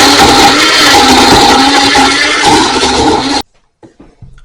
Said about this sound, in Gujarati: બંધ કરી બધાને સરસ બ્લેન્ડ કરી લઈએ.